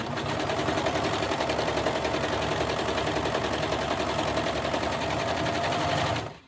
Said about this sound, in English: the beauty of a serger is, even when you are done sewing, you can just keep going, and it just keeps kind of sewing